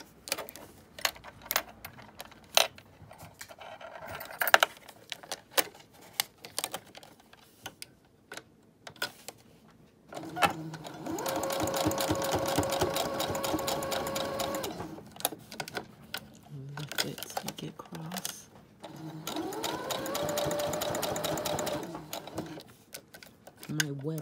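A sewing machine with a zipper foot stitches webbing in two long runs of fast, even mechanical whirring and clatter, broken by pauses filled with scattered clicks and handling sounds.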